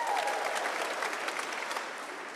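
An audience claps through a 2018 graduation ceremony at Bishop Grosseteste University, with dense, sustained applause from a large crowd that tapers slightly toward the end.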